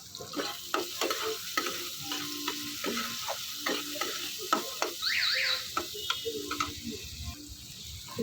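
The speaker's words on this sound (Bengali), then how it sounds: "ওই পেঁয়াজটা আমি তেলের মধ্যে ছেড়ে দেব।" Chopped onions sizzle in hot oil in a wok and are stirred, a soft steady frying hiss broken by repeated scraping and clinking strokes, fairly quiet and close.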